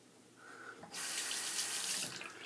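A shaving brush rinsed under a running bathroom tap: a close, steady gush of water starts abruptly, runs for about a second, then cuts back, with no talk.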